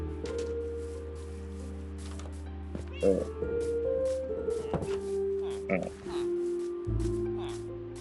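A cat meows a few times amid steady Minecraft game music and effects, with a person talking over it.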